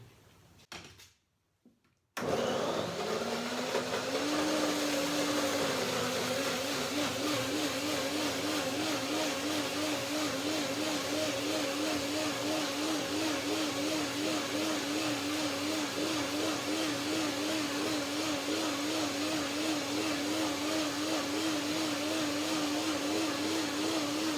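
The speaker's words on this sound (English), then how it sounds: "That's easier for the blender." A blender blending mango and lime whirs loudly and steadily after a brief pause at the start, its motor pitch holding nearly constant with a slight wobble as it runs.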